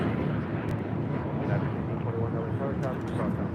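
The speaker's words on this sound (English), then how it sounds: "Air Canada Flight 785 coming from Toronto in the 787-8 Dreamliner." An Air Canada Boeing 787-8 Dreamliner arriving at LAX as Flight 785 from Toronto gives a broad, steady jet rumble, loud and unbroken, heard from outside at the airport.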